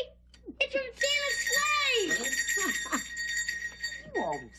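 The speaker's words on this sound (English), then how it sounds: "What's this bell doing here? It's from his sleigh." A small bell from Santa's sleigh rings with a sustained, bright jingling tone under the overlapping voices of excited adults and a child in a Christmas sitcom scene set in New York.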